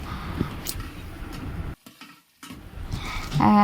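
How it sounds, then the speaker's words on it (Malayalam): Onion and tomato are stirred and sautéed in a pan over a wood-fired stove, with a crackling sizzle and scraping that drops briefly to near quiet before resuming, and a short tonal sound at the end. "അങ്ങനെ തക്കാളി ഇട്ടൊന്ന് വഴറ്റി കൊടുക്കണ്ട"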